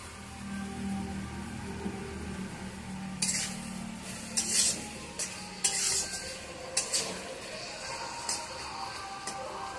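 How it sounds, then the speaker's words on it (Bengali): A spoon stirs small-fish chutney in a pan, making intermittent scraping clinks against the metal in quick clusters over a low background hum. "এটাকে ভালো করে নেড়ে অনেকক্ষণ মজে যাবে একদম, তারপরে নামাই যাবে।"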